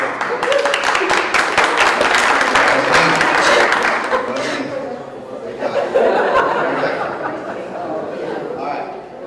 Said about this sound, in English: Let's have a nice round of applause for our facilitator.